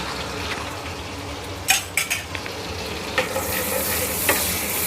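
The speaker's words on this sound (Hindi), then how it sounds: "2 लौंग डालिए मैंने, 1 बे लीफ या जिसे तेज़पत्ता भी कहते हैं, 1 चम्मच जीरा। इसे अच्छे से भूनने देंगे पहले।" Cloves, a bay leaf and cumin roasting in hot oil, with a steady sizzle close by and several sharp clinks and scrapes of a spoon stirring against the pan, and no talk.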